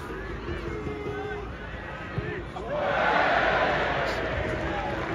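A football crowd at a Darlington FC versus Scunthorpe United match breaks into a loud sarcastic cheer that swells midway. A commentator talks steadily over the crowd noise.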